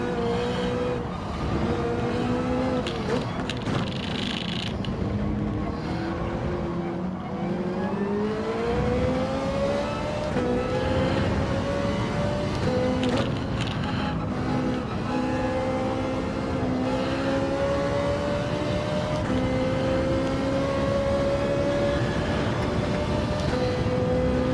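A BMW race car in a Gran Turismo race: a steady, moderately loud engine drone whose pitch climbs and dips through gear changes as it accelerates, with other cars faintly mixed in.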